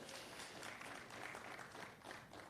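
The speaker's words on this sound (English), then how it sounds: "A round of applause, the Muvule seedling" Audience applause at a corporate IPO listing conference, a steady broadband clatter of many hands that fills the clip evenly at moderate distance.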